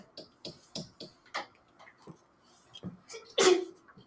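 A single sharp sneeze bursts out near the end in an algebra classroom, preceded by a series of soft ticking clicks.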